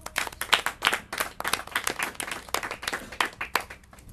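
An audience claps at a Portuguese-language quiz final, a lively burst of uneven hand claps from a modest group, fairly close and without talk.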